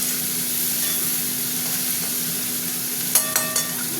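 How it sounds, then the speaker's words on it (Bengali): Shrimp frying in a pan for a pointed gourd and potato curry give a steady, close sizzle with a low hum underneath, and a few sharp clinks and scrapes near the end. "আমি এবার চিংড়ি মাছগুলো দিয়ে দিচ্ছি"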